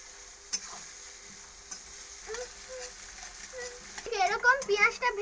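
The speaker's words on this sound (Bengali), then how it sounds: "আমি তেলের মধ্যে পেঁয়াজগুলো দিয়ে দিয়েছি, পেঁয়াজগুলোকে লাল লাল করে ভেজে নেবো।" Onions frying in oil give a soft, steady sizzle with a few clinks, while a child's high-pitched voice chatters nearby toward the end.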